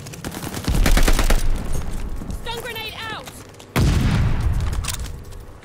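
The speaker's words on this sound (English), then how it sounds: "Stun grenade out." A stun grenade in Call of Duty Vanguard, during Team Deathmatch on the Berlin map: rapid gunfire crackles, brief whistling tones follow, then a sudden loud, heavy burst erupts and rumbles on.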